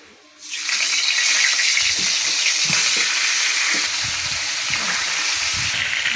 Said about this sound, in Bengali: একইভাবে আমি বাকি মাছগুলোও ভেজে নেব